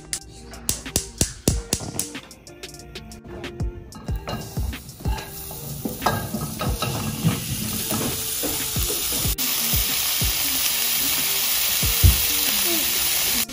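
Sausages with pineapple and onions cook over a fire, opening with rapid clicks and crackles that give way to a loud, steady, continuous sizzle.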